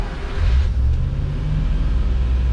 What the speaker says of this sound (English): So you can hear the choke run up.